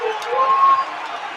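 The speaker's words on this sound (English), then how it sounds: "Listen to this crowd here at the Mac Center" Crowd noise at a college basketball game at the Mac Center, Mount Union against Heidelberg in an OAC semifinal, a steady roar of fans with a sharp whistle-like tone midway, loud and continuous.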